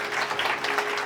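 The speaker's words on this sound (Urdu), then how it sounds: "زوردار تالیاں خدا دے بدلے" Loud applause fills a church service, a dense, steady burst of clapping from a congregation with no voices over it.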